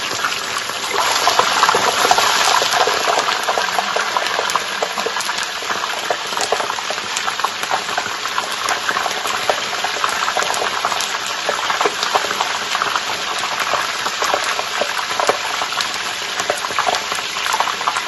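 Fish fries in hot oil, sputtering and popping hard and nonstop as trapped moisture bursts, a loud, dense crackle that holds steady throughout with no voices.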